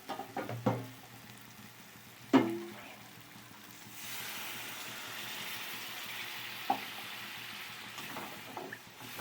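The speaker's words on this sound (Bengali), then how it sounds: "দিয়ে দেবো এবার একটু জল।" Water poured into a pan of fried spice masala with kasuri methi, a couple of sharp knocks followed by a steady soft sizzle and bubbling that carries on, close and quiet.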